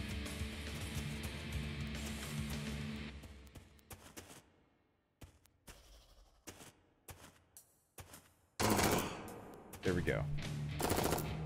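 An SMG fires rapid bursts in the video game Jupiter Hell. Loud bursts come at the start, then scattered shorter volleys split by pauses, and a heavy closing barrage. A voice speaks briefly between bursts.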